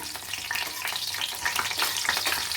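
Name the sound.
cashews frying in tempering until golden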